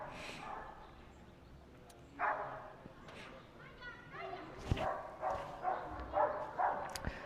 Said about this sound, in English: the dog found another dog, and now dogs are doing dog things together. As you can hear.